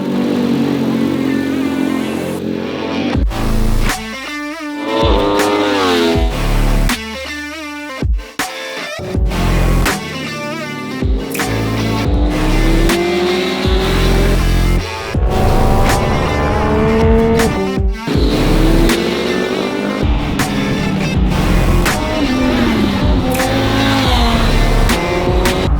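A Triumph Speed Triple 1200 RR racing motorcycle fitted with a Racefit exhaust and titanium parts howls around a race track. Loud revs climb and drop through gear changes, with sharp cuts in sound and repeated pass-bys for about twenty-five seconds.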